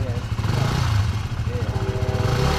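A dirt bike engine is revved with bursts of throttle, a buzzy pulsing note rising and falling close by, with a person talking over it.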